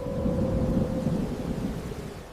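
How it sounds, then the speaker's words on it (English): A thunderstorm with hail rumbles as a dense, continuous roar of thunder and pounding rain, loud and close, with a faint steady tone humming beneath it. "Then came a storm unlike any Egypt had witnessed, hail and fire falling from the heavens."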